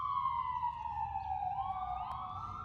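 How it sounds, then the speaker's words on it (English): Ambulance sirens wailing outdoors as the vehicles pull out, a steady, loud two-tone sweep sliding down in pitch and then rising again, with a second siren overlapping near the end over low traffic rumble. "we happen to be over by where the ambulances are leaving from"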